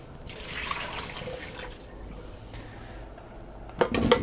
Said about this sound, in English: we're gonna drain this water that I've rinsed them in.